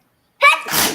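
A child sneezes once, a sharp close burst that rises suddenly and trails off in a breathy rush, heard alone with no talk around it.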